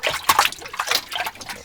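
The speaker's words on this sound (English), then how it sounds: "are you figuring out splashing with your hands now?" A small child slapping water with the hands, quick bursts of close splashes and drips, loud and irregular over about two seconds.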